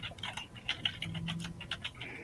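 Fingers typing on a keyboard in an online chat session, a quick, irregular patter of soft clicks, faint and close, with no talk.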